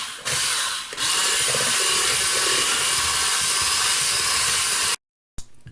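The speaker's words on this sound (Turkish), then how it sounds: "Bunları güzelce çırpacağım." Three eggs and a cup of sugar are whipped to a froth for an apple roll cake, a loud, continuous electric mixer whir that runs steadily and then cuts off abruptly.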